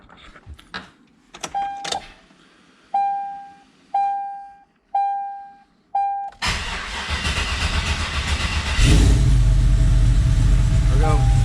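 A supercharged truck engine cranks and fires up, and a few clicks and tones come before it. The engine then settles into a loud, steady idle that grows heavier and rumbling toward the end.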